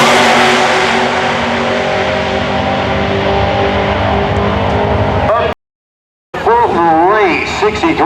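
Drag racing cars, including a 1963 split-window Corvette and a 'flying shoebox', roar loudly and steadily at the 2004 IHRA finals in Rockingham, North Carolina, then cut out briefly before a wavering engine returns.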